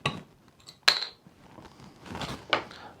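A bottle of Russian River Brewing's Pliny the Elder double IPA is opened: quiet metallic clinks and two crisp snaps of the cap, close and without talk.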